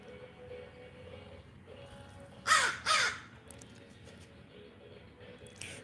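Two crows perched on top of a light pole give a pair of loud, harsh caws in quick succession, standing out clearly over a low, steady outdoor background.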